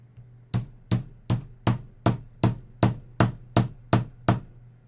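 Ten sharp hammer blows land at an even, deliberate pace, each a crisp ringing strike with a short decay, close and loud with no talking.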